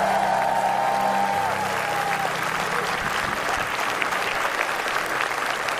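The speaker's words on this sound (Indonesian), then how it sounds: "kalau begitu tepuk tangan buat kalian semuanya sudah hadir di Ini Talk Show." Studio audience at a television talk show applauds loudly and continuously, a thick, even wall of clapping with a brief musical tone fading out near the start.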